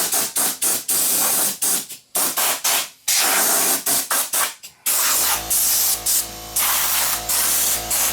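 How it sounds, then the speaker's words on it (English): An air compressor nozzle blows dust out of a CD player in a string of short, sharp hissing blasts, then one long sustained spray, all loud and close. "we'll get the air compressor out and blow all the dust out of it"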